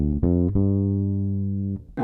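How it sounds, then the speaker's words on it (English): A bass guitar played through an Aguilar AG 700 preamp pedal with all knobs at noon sounds three plucked notes, the last held as a long, steady, harmonically rich tone before it cuts off and a new note starts. "So this is the sound of the bass with the preamp engaged"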